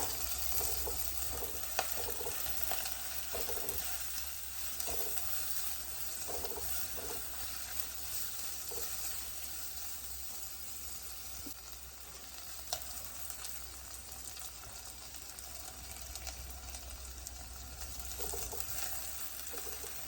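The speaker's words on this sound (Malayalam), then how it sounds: "പച്ചമുളക് എല്ലാം ഇട്ട് വഴറ്റിയെടുക്കാം." Garlic, ginger, green chili and shallots sautéing in a pan: a continuous, even sizzle and crackle heard throughout at moderate level, with occasional faint stirring knocks and no talking.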